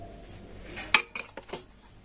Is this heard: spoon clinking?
yes